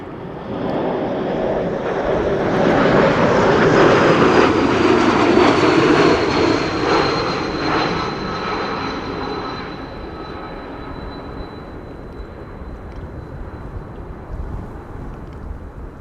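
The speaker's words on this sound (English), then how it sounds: "E2 Embraer 195 arriving from Porto in Portugal up next." An Embraer 195 E2 jet landing at Amsterdam Schiphol in windy conditions, arriving from Porto; a loud, broad engine roar swells over several seconds with a falling whine, then slowly fades as the aircraft passes.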